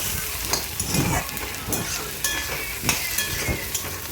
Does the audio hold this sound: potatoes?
yes